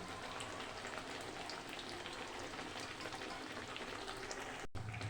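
Malpua pitha fries in hot oil with a faint, steady, dense crackle and fizz that runs throughout, broken by a brief dropout near the end.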